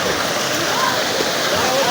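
Water from a natural spring in Balochistan, Pakistan, flowing in a steady rushing splash like a small stream or cascade, heard close and continuous, with a voice faintly mixed in.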